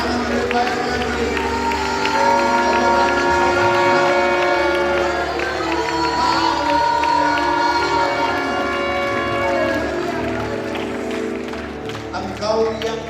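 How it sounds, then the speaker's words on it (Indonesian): Church congregation at a worship night clapping loudly and steadily along with ongoing music, a dense sustained wall of applause that fades slightly near the end. "Tepuk tangan lebih baik lagi."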